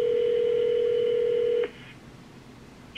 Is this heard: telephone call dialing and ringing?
yes